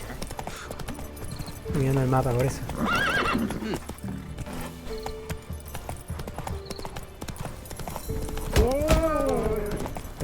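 Horse hooves clip-clop steadily in The Witcher 3, with neighs and whinnies breaking in, one loud whinny near the end. Someone talks over the hoofbeats.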